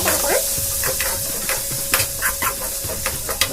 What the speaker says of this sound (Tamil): வெங்காயம் கொஞ்சம் ப்ரௌன் கலரில் நல்லா வணங்கிடுச்சுங்க.